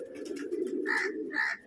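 Close pigeons near a coop repeat low, throaty coos in a steady rhythm, with a couple of brighter bursts of sound like wingbeats or calls standing out, no voices.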